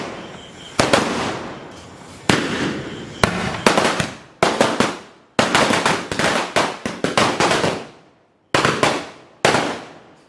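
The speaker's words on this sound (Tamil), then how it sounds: "இப்போ வந்து மாசா நம்ம பார்ப்போம் தடபுடா வெடிக்கிறத" Sivakasi firecrackers burst in a string of loud, sharp blasts, each followed by a crackling decay, with short gaps between volleys and no voices.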